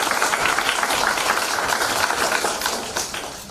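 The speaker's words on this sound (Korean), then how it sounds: "여러분 축하의 박수 부탁드리겠습니다." Applause at an award ceremony, a dense, continuous patter of many hands clapping that is fairly loud and fades slightly toward the end.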